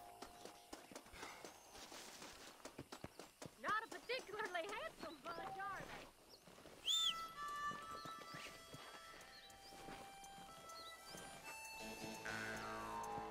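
A horse galloping in a race in the western video game Red Dead Redemption, soft quick hoof thuds under game music and someone talking, with a brief whinny.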